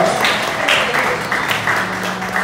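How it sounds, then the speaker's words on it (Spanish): Wedding guests clapping at a reception as the couple is introduced, a loud, uneven patter of hands with bursts and swells, music or voices faintly underneath. "Fuerte el aplauso para ellos."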